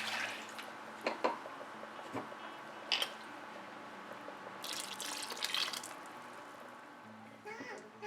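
Water poured into a pot of vegetable kurma gravy, soft splashing and dripping with a trickling pour in the middle, faint and close, between quiet kitchen clinks.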